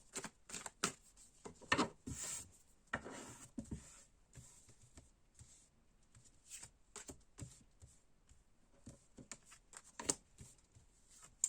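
Oracle mirror cards are shuffled and drawn by hand, giving soft, quick papery riffles and flicks in irregular bursts, close and quiet with no talking.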